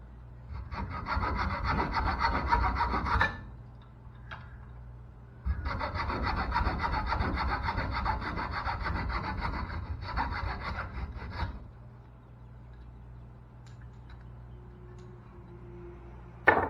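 Sawing by hand through the front of a wooden crankbait body, with two close, bursts of rasping back-and-forth strokes separated by a short pause, then quiet.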